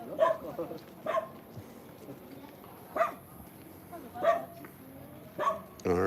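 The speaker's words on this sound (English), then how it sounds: "There's a lot of dogs out here." Dogs bark outdoors at a facility in rural China, with about six separate barks spaced a second or so apart at moderate distance, while people talk nearby throughout.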